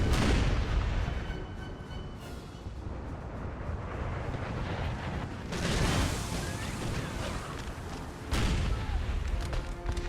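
Howitzer artillery fires repeatedly on an American Civil War battlefield, heavy booms and rumbling blasts rolling over a dense wash of battle noise, with the loudest bursts landing near the middle and end. A voice murmurs faintly underneath.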